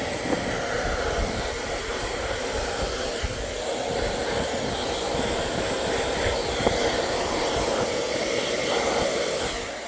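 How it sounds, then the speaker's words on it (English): A blow dryer blows continuously at steady strength, a constant rushing whir with no talking. "And then I'll hit this again with the blow dryer."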